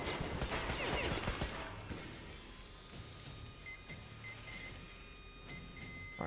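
Rapid AK rifle fire in the video game Metro Exodus, a dense burst of shots at the start fading into quieter game ambience and clinks.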